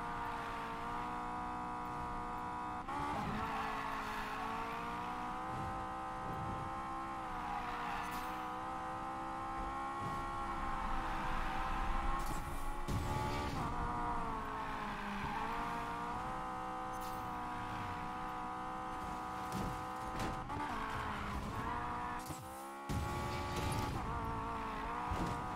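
A Honda S2000 races in the video game Need for Speed Payback. The engine note keeps rising and falling, with revving and tire squeal over a dense game soundtrack, running steadily for the whole stretch.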